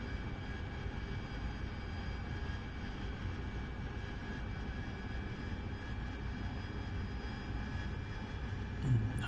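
Steady jet engine whine and roar of an AV-8B Harrier in the DCS flight simulator during a ship landing, a constant droning tone with a faint high whistle, unbroken throughout.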